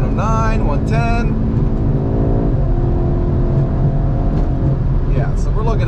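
A car with a DO88 intercooler and Racingline PCM tune is downshifted, then pulled at wide open throttle on a drag-style run. The engine roars loud and steady, with short electronic chimes early on and a voice briefly speaking near the end.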